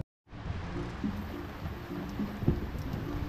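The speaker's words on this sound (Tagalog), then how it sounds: "Umuulan." Steady rain hiss begins abruptly after a brief silence and continues evenly, with faint low murmurs and scattered drips beneath.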